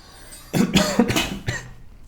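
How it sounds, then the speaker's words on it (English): A rapid series of raspy coughs, several in quick succession, close by and fairly loud, trailing off into quiet. "Sorry for all the coughing"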